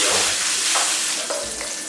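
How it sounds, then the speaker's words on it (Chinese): Pork belly fries in oil in a hot wok, a constant bright sizzle broken by a few low scraping stirs of the spatula. "锅烧热，加1点油，把5花肉先下锅炒出油"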